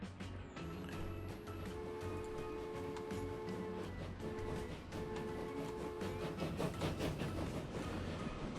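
A train in the game Transport Fever pulls away with a steady rumbling roll, rhythmic clatter and faint tonal hums, continuous and fairly even in level throughout, no talking.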